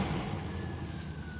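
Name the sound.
whistle of Mercedes S930 Brabus electric drive motor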